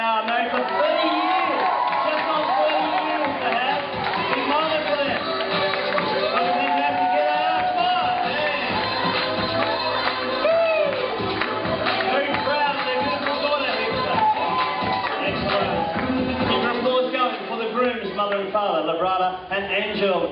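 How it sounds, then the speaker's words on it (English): A wedding reception crowd cheering and whooping during the bridal party entrance, a dense, loud roar of voices over background music that runs continuously for about twenty seconds. "With your applause to the bride's mother and father, Teresa and Jeffrey."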